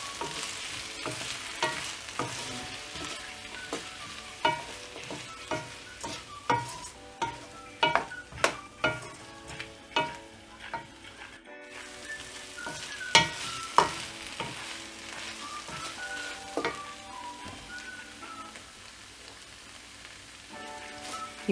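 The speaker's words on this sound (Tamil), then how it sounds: "வெங்காயம் ஆட் பண்ணிவிட்டு நல்லா ஃப்ரை பண்ணணும்" Onions frying in oil in a pan for Tamil oil brinjal kuzhambu, with a steady sizzle and repeated sharp scrapes and clacks of stirring throughout. No one speaks.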